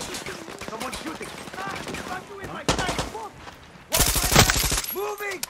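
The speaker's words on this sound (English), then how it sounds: "Someone shooting!" In Far Cry 6, bursts of gunfire crackle in rapid volleys, some distant and some close, with a loud sustained burst near the end, mixed with game music and other in-game sounds.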